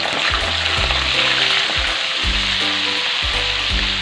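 Meat for adobong sitaw sizzles loudly in hot oil in a pan, a dense, continuous crackling fry heard up close with stirring clatter and no talking.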